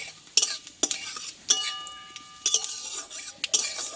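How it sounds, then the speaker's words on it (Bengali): Panch phoron seeds crackle and sizzle in hot oil while a utensil scrapes and clinks against the pan in irregular strokes, close and fairly quiet. "ফোড়নটা আমি একটু ভালোভাবে ভেজে নেব"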